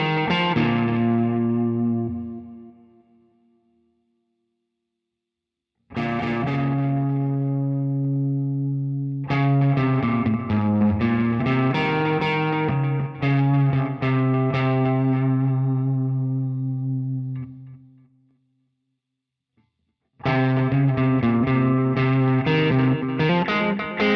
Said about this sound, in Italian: Sentiamo la differenza con l'algoritmo tape del preamp del cab invece.